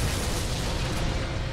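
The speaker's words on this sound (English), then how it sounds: "I just blew up my own damn tank" Tank blowing up in the video game EDF 5: a loud, broad, rumbling explosion that fills the whole moment, close and sustained without a break.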